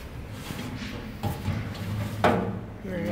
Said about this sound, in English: Metal chest of drawers.